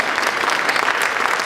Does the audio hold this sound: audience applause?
yes